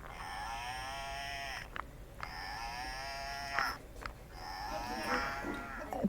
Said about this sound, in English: It was the sound of a cow.